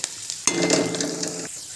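Taro leaves with garlic cloves and black cumin hit a hot pan, a sudden loud sizzle bursting in and frying for about a second under stirring scrapes, then cutting off.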